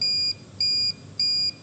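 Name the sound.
buzzer sounding on industrial control emergency system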